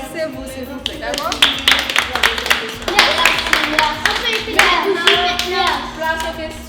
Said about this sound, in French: Alors applaudissez-vous s'il vous plaît